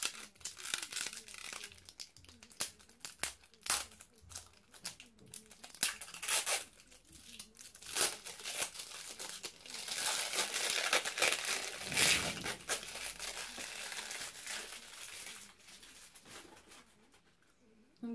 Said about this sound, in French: Je vais vous en déballer une.